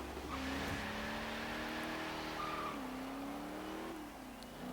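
A 1985 HDT VK Commodore Group A V8 in Forza Horizon 3 drones and revs through several gear changes, its low engine tone climbing, dipping at each shift and climbing again, loud and steady with no speech.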